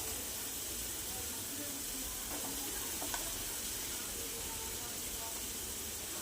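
Chopped onion sautés in hot oil in a pan, a soft continuous sizzle and hiss with faint stirring, quiet and even throughout.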